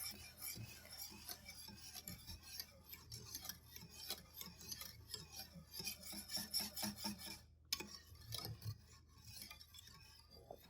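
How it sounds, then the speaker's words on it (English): A spoon steadily stirs a cooling ice cream base in a bowl, making soft continuous rasping scrapes and light taps in an even rhythm, close but quiet throughout. "Make sure you stir it from time to time so the top doesn't form a thick layer."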